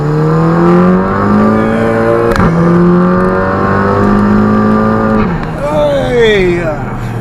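A modified MK2 Audi TT with a K04 turbo conversion launches hard and accelerates, its engine roaring loud from inside the cabin with rising revs, a brief shift dip, then climbing again.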